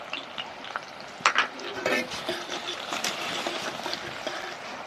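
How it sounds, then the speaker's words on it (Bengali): Chopped onions and green chillies fry in hot oil in a pan, a steady close sizzle with occasional sharper crackles and stirring scrapes, continuing on its own without talk. "পেঁয়াজটাকে একদম লাল করে ভেজে নেবো"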